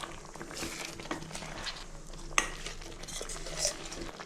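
A spoon scrapes and stirs through raw mango pachadi with jaggery in a pan, with soft clinks and a faint sizzle running underneath the whole time.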